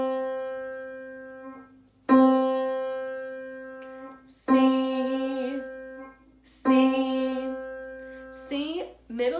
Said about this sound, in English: Middle C always makes the same sound.